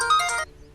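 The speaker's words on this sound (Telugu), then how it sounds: "అది నా సెల్ ఫోను." A cell phone ringtone plays a short bright melodic burst that cuts off abruptly after under half a second, leaving quiet room tone.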